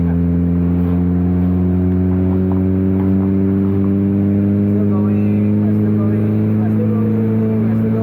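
A Mazda RX7 SA22C rotary engine under full throttle gives a loud, close in-cabin drone whose pitch climbs steadily as it revs, with a person talking over it.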